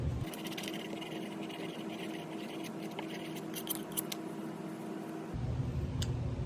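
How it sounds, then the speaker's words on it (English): Fine 220 grit sandpaper rubbed by hand over a DIY exercise handle, a continuous close scratchy rasp with small irregular strokes, steady in level, with a low rumble joining near the end. "I'm gonna use the 220 grit sandpaper, so it's pretty fine"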